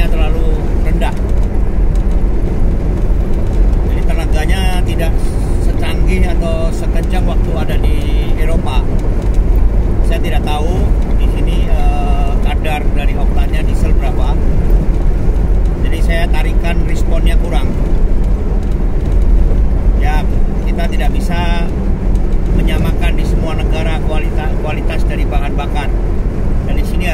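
A diesel car in Uruguay pulling onto a highway, with a steady loud cabin drone of engine and road noise running throughout while someone talks over it.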